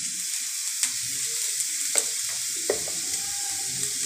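Vegetables for a noodle spring roll filling stir-fry in a pan with a soft, steady hiss, marked by a few sharp clicks and taps of a spatula.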